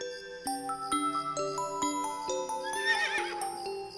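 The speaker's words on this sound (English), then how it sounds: "That's a horse." A horse whinnies in a cartoon-style children's animal scene, its neigh rising clearly over a bright tinkling musical backing with chime notes and light clip-clop hoofbeats.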